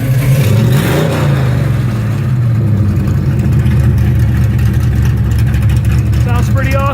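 A custom 1971 Plymouth Barracuda with a 4-speed gets its engine revved, a loud, close rumble that surges and falls in pitch while a voice talks over it.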